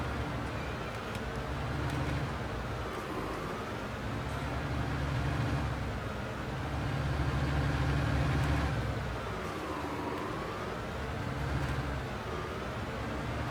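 A tractor engine idles in the Farming Simulator 2019 video game, a steady low rumble with a slowly wavering pitch, loud and continuous with no talk over it.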